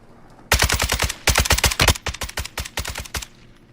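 Rapid automatic gunfire from a video game weapon firing about 44 shots: dense, loud bursts of regular cracks in quick succession, with brief pauses between strings of shots and no voices.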